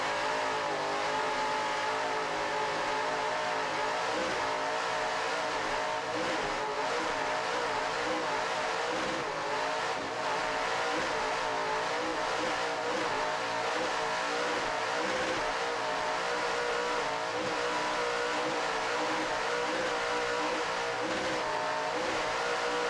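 Offshore powerboat racing engines roar on board a 39-foot Extreme boat named the Switch at a world championship race in Deerfield, a loud continuous high-revving drone with rushing wind and water noise throughout.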